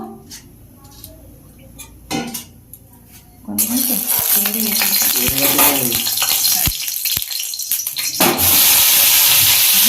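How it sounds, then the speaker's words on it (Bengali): Bitter gourd (uchhe) hits hot oil in a pan, setting off a loud, steady hiss of frying after a few seconds of quieter kitchen clatter and speech. A few sharp utensil clicks sound over the sizzle. "উচ্চাটা একটু ভাজবো"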